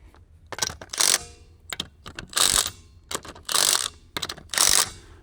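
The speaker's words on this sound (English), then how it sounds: "we're going to use the impact, go around one more time" An impact wrench tightens the wheel nuts on a Can-Am Commander, firing four loud, close bursts of hammering rattle with brief clicks and pauses between them.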